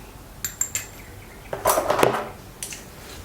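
Pork is mixed by hand in a bowl with light soy sauce, egg whites and cornstarch. Three sharp utensil clinks are followed by a denser run of wet scraping and tapping against the dish, then a final light knock, with no voices.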